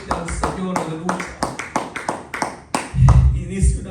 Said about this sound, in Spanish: vamos a darle una ofrenda de palmas fuerte al Señor